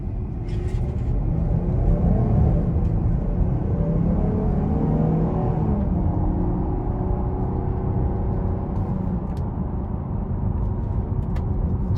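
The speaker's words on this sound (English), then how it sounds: "I'm gonna put the sport mode on now and test acceleration." A 2021 Jeep Grand Cherokee L Limited accelerates in sport mode, a continuous low engine rumble and road drone heard from inside the cabin, steady and fairly loud throughout with no talk.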